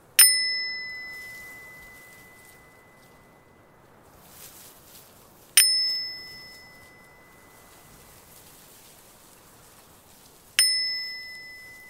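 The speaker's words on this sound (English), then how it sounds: "a little round brass bell leaning up against the wall. Is a small rod, a wooden rod. He picks it up and" A small round brass bell struck with a wooden rod rings out three times, each a bright ringing ding that decays slowly, spaced several seconds apart in a quiet room.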